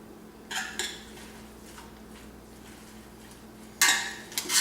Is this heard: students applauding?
no